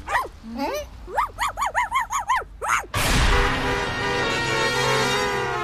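A cartoon dog barks in a quick series of bright, yelping barks, about a dozen in rhythmic bursts, followed by a loud crash and rumbling engine-like noise.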